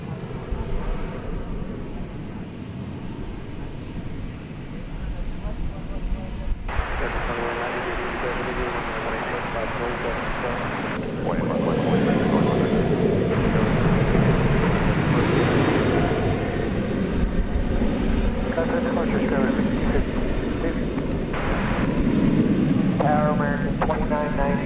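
A Fiji Airways Airbus A350-900 jet airliner rumbles at DFW Airport at night, a broad engine roar that grows louder and fuller midway, with people talking over it and radio chatter.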